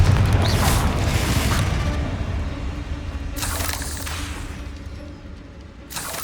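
Confringo spell cast in Hogwarts Legacy: a deep rumbling boom that swells and slowly fades, with bursts of crackling noise at the start and end, loud and continuous, with no talking.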